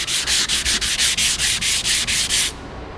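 A car body is sanded by hand with 220-grit sandpaper in about eleven quick, even back-and-forth strokes, loud and close. The strokes stop abruptly near the end, leaving quiet room tone.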